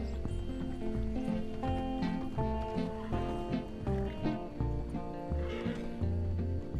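A horse whinnies amid a busy Red Dead Redemption 2 game soundtrack of music and effects, with hoof clip-clops mixed in.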